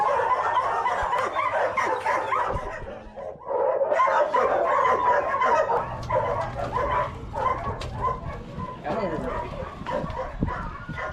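Greyhounds bark and yip excitedly before a race, a dense, continuous chorus of overlapping barks with occasional whimpers, with people talking underneath throughout.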